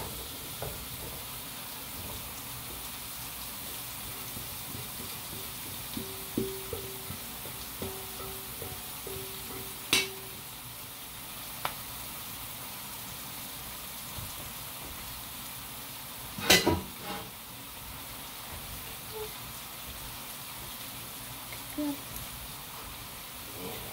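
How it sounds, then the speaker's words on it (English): Two heaping scoops of garlic sizzle softly in a pan for Cajun chicken pasta, a faint steady hiss broken by a few sharp clicks and taps from stirring. "Two big heaping scoops of that garlic. Stir it all around."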